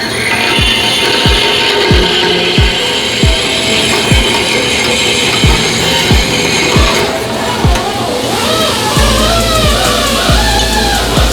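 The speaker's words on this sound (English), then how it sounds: "Bandsaw the sucker off." Bandsaw cutting a slot in a 1969 VW Bus engine/transmission cradle, a loud close continuous whine with regular rhythmic ticks, shifting to a harsher pitch near the end.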